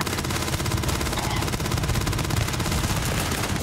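Rapid automatic fire from the Grendel rifle in Starfield, a dense, steady fusillade of loud close shots running without pause over a low rumble.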